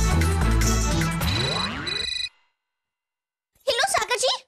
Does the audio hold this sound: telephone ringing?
yes